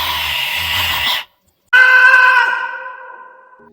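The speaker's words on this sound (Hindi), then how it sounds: "आलोक की चीख सुनकर अनीता भी उस हवेली के अंदर चली जाती है" A man's drawn-out scream as a horror story sound effect, loud and close, breaking off into silence before a second shrill wail that fades gradually.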